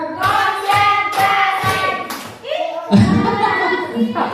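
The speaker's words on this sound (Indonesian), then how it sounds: "Tepuk 4" A group at a school leadership training claps four times in a clapping game, four quick hand claps in an even rhythm, and voices chant and speak loudly around the claps.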